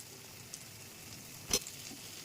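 Potatoes fry in a pan with prawn heads and spices, giving a faint, steady low sizzle with one brief clatter near the end.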